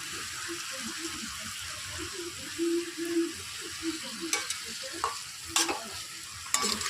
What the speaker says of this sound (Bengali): আমি একটু একটু করে নাড়ানাড়ি করে নেব